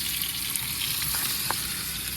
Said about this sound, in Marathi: त्याच्यामध्ये मस्त की आता कांदा टाकून घेणार